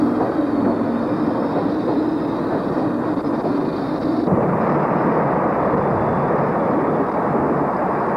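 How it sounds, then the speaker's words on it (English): A London Transport train, bound for underground system work, rumbles steadily through Birmingham Snow Hill station, a dense continuous roar of engine and wheels at moderate loudness that shifts slightly in tone partway through. "This London transport train was on its way to London to work on the underground system."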